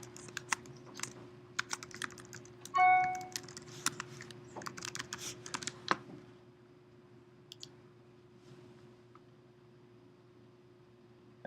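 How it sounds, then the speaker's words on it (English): Typing on a computer keyboard, bursts of light, close key clicks at an uneven rhythm for several seconds, then tapering to a few isolated taps over a faint steady hum. "just type it in."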